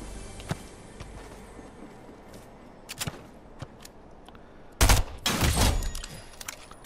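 Gunfire in a video game: scattered sharp single shots early on, then a louder burst of close rapid fire near the end over a quiet background.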